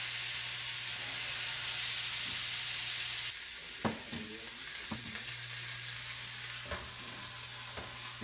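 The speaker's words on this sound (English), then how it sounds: "Cooking in its own fat." Smash burger patties frying in their own fat on a hot surface, a steady close sizzle throughout with a few sharp pops and spatula scrapes, and no talking.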